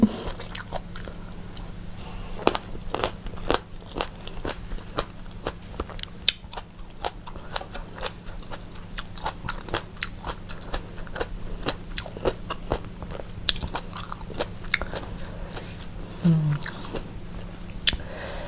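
Someone chews crunchy jellyfish and crispy squid served in a spicy fermented fish soup. The crisp, close bites and crunches repeat steadily through the whole clip, alone and without speech.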